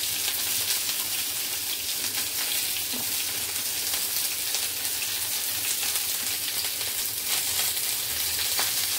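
Cauliflower florets fry in a pan of hot oil, giving a steady, dense sizzle that holds at an even level throughout with faint stirring, no voices.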